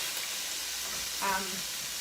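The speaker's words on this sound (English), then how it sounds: "I like the browned crunchiness of pan frying it." Taco meat browns in a frying pan, giving a steady faint hiss and sizzle with a slightly louder stir or crackle partway through.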